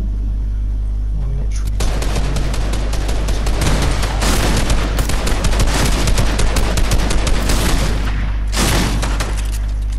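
Loud, dense gunfire in the video game Fortnite, rapid bursts and booming shots crackling almost continuously for several seconds over a steady low hum, with no talking.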